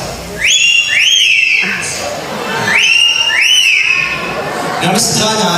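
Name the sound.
bird imitating a whistle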